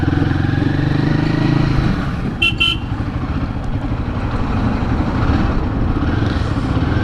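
A Royal Enfield Guerrilla 450 motorcycle is ridden at speed on the road, its engine a loud steady drone that shifts pitch midway, with a brief horn toot briefly over the rumble.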